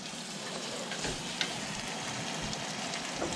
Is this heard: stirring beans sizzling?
yes